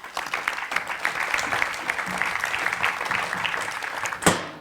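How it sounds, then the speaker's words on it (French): Steady applause from an audience fills the space, even and sustained, with one sharper bump near the end. "voudrais inviter ici Mathieu et Souleymane, que je vous invite à applaudir"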